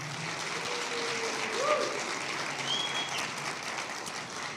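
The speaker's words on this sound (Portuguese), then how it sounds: "Então dê um aplauso bem forte ao Senhor aí, querido." Steady applause from a church congregation during a family celebration service, a dense continuous wash of many hands clapping at a moderate, even level, with faint voices under it.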